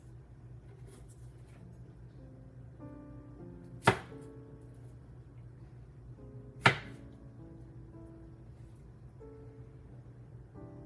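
Two sharp knife chops strike a cutting board a few seconds apart over a quiet, low background hum.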